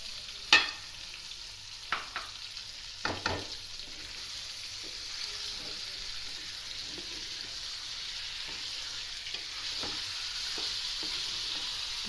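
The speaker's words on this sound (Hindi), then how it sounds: "अब इसमें साथ ही अदरक लहसुन भी डाल देती हूँ, वो भी हल्का सा फ्राई हो जाए।" Ginger garlic paste fries in a pan for chicken zafrani karahi under a soft, steady low sizzle, with a few sharp clinks of the stirring spoon early on and quieter scraping later.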